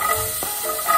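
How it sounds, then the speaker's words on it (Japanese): Onions and minced meat sizzle in a pot on a stove while chili is started, a steady close frying hiss running throughout with a brief scraping stir near the middle. "ちゃんとジュージュー言ってます。"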